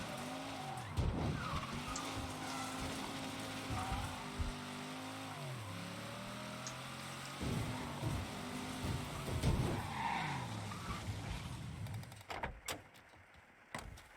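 A car in Mafia III with its engine droning steadily and pitch shifting as it revs and corners, broken by bursts of tire skidding, ending in a few sharp knocks near the end.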